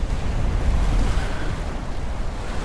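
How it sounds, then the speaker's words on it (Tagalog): Sea waves wash in at high tide along a long seaside boulevard in Camarines Norte, Philippines, bringing salt water ashore as a steady, loud, unbroken roar of surf mixed with wind rumble, with no voices. "Pumapasok na dito yung tubig alat."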